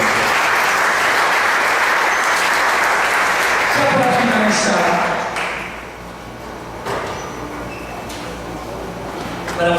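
Loud, dense applause from a church congregation fills the space for about four seconds, then thins and fades to a softer patter with scattered claps and faint voices.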